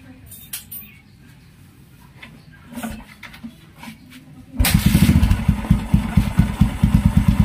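A Kawasaki Barako motorcycle, restored after four years, fires up after a single kick and settles into a loud, close, steady thumping idle, following a stretch of quieter rustling and background chatter.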